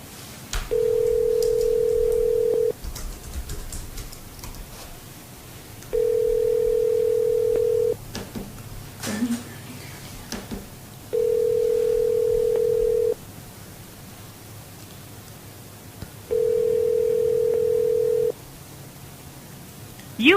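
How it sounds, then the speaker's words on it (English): Repeated ringback tones on a phone line while calling a guest, four steady two-second rings separated by pauses of silence, clear and alone with no talking. "we're going to keep trying to get Tim Grunhard on the line"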